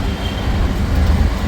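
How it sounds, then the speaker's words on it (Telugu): Metro train at Jhandewalan metro station in Delhi, a steady loud low rumble with faint wheel noise throughout, no talk. "జెండేవాలా మెట్రో స్టేషన్ ఇది"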